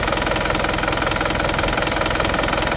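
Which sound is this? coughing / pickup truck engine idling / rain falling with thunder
pickup truck engine idling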